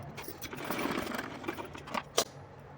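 A sewing machine runs in a steady, quiet whir, locking the edges of a small dress for a Laddu Gopal idol with a few brief pauses and clicks, and no talk over it.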